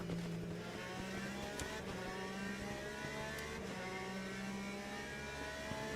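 Race car engines in the Le Mans Ultimate racing game, GTE class, a steady blend of several engines droning and whirring at mid pitch, held level and continuous with a couple of brief sharper rises.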